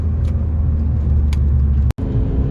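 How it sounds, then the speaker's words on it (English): Remapped VW Golf MK5 GTI at roughly 270 bhp, its engine and exhaust giving a steady, loud, deep rumble throughout, broken by one sharp crack or pop near the end. "the note of this car, the way the car sounds is a lot different to the Ep3 Type R"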